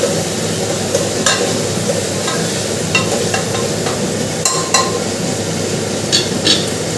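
Spices hit hot oil for a vegetable dish in a home kitchen and are stirred, giving a steady, close sizzle. A spoon scrapes and clinks against the pan now and then.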